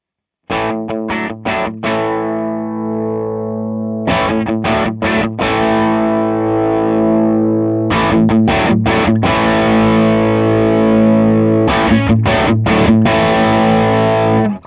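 Heavily distorted electric guitar played through an AMT V1 preamp at high gain, loud and close, with chugging palm-muted riffs broken by sharp choppy stops and sustained chords ringing between bursts.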